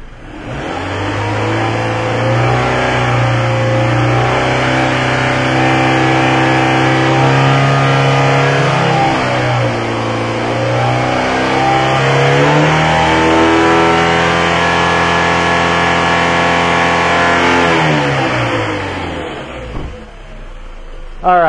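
A Toyota Camry with a freshly replaced engine and air-fuel sensor fault codes revs under held throttle, its tone climbing, dipping and rising again for about twenty seconds before dropping off, with talking over it.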